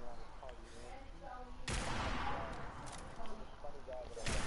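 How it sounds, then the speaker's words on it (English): A .50 caliber sniper rifle fires in a PS4 video game, a single loud, sharp boom that rings out and decays, followed by faint rumbling and another blast near the end, under a quiet, murmuring voice. "I'm shooting with a 50 caliber sniper rifle."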